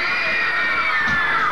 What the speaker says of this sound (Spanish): el grito de las chicas solteras